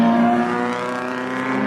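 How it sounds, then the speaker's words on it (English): Old race cars at the Swiss Grand Prix, a loud sustained engine roar with a steady pitched drone, close and continuous as a car drives past. "Just a bunch of old cars racing around."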